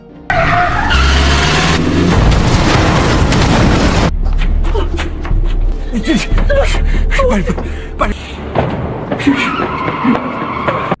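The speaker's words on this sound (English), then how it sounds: "Yui tried to stop the car by crashing it" Film car crash with a long screeching tire skid, then a heavy impact and scattered crunching debris, loud and close, followed by rattling and scraping noises as the scene settles.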